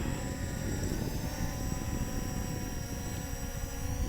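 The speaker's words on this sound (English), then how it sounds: "Unlock the props. Auto takeoff." A Holy Stone HS720R drone spins up its propellers for auto takeoff, giving a steady, close, loud whirring buzz with layered tonal whine that holds constant throughout.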